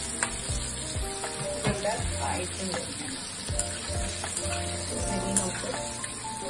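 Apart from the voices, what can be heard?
frying small pieces of chicken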